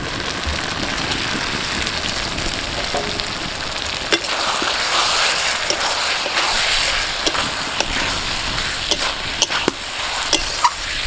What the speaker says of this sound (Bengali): এখন এর মধ্যে ভেজে রাখা আলুটা দিয়ে দিচ্ছি।